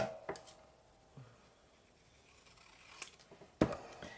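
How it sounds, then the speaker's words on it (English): Scissors cutting a small piece of card for a Christmas card, a few sparse crisp snips and soft paper rustles, close and quiet, with no talk. "I'm going to cut a little bit off."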